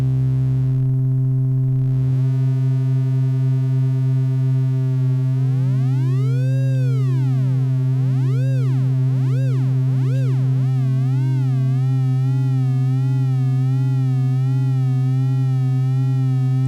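A Digitone II synthesizer plays a steady sine-wave tone. Its pitch swings slowly up and down in a wobble like an old tape machine, and the swings speed up and settle into a fast, shallow flutter. The tone is loud and sounds alone.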